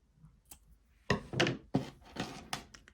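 Scissors snipping through yarn during a crochet project, a few sharp close cuts and thunks in quick succession after a quiet start.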